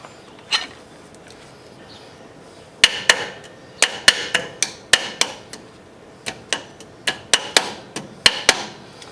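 Sharp metallic hammer strikes, a few isolated at first, then a quick irregular series of loud close blows.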